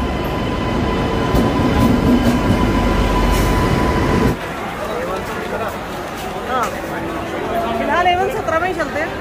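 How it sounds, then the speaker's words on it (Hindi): A train pulls into a station with a loud rumbling roar, then the noise drops away to a quieter platform hum with faint squeals, while people talk nearby. "तो हमारी ट्रेन आ चुकी है"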